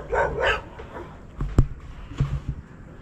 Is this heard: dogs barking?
yes